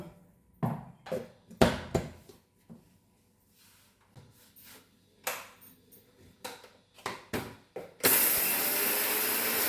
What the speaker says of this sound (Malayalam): ജാറിലിട്ടൊന്ന് പൊടിക്കാം